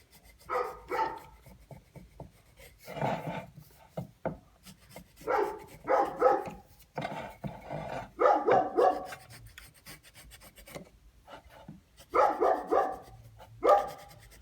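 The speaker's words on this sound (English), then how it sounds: "He gets bored and he starts barking." A neighbor's dog barks in short, irregular bursts, several loud harmonic yelps spread across the stretch with brief gaps between, and no one talking over them.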